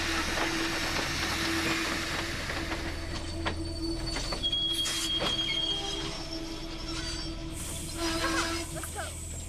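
A passing train with wheels squealing and a steady rumbling roll, a continuous rail drone heard up close with sharp metallic squeals and clicks throughout, voices faintly audible beneath.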